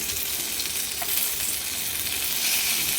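Stuffed bell peppers (bharleli dhobli mirchi) cooking in a covered pan give a steady, even sizzle and frying hiss that carries on without a break throughout, heard up close with nobody speaking.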